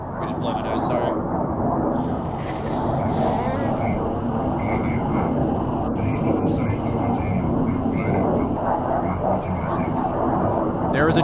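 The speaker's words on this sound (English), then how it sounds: "There is a jet in my left ear." A jet aircraft in a 1971 Indian naval front war game roars past, a loud sustained engine rumble and whoosh filling the scene, with a few brief clicks and bursts over it.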